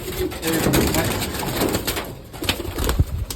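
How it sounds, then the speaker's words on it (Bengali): Racing pigeons coo softly in the background beneath someone talking nearby, amid general room noise. "রেসার কবুতরগুলো দেখেন"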